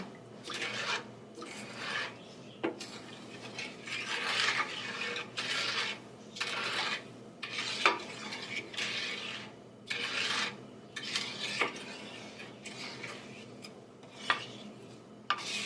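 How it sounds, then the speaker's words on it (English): Cornstarch lumps are worked out of strawberry pie filling in a pot, a quiet repeated rasping scrape of a utensil in rhythmic strokes with occasional light clinks against the pot. "I'm going to work these lumps of cornstarch out of here"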